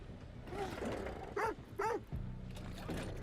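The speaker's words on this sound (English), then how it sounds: "The dog." A dog in a horror video game barks and whines in a few quick, moderately close calls, with two distinct yelps in the middle over a low ambient game rumble.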